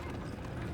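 Horse hooves clip-clopping in a TV show battle scene, a quick rhythmic patter of hoofbeats over a dense low rumble, brief and moderately loud.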